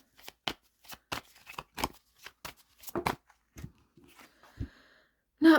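Tarot cards pulled from a deck and shuffled, with a run of crisp, close riffling flicks in quick irregular bursts, then a few quieter slides and taps before one louder rustle at the end.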